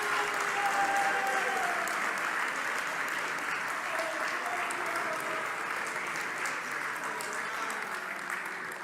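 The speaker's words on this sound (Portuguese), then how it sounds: "Vocês podem aplaudir a Jesus Cristo, adoradores, adoradoras." Congregation applauding during a church worship service, a steady wash of many hands clapping that holds for the full stretch, with faint voices and cheers blended in and fading slightly toward the end.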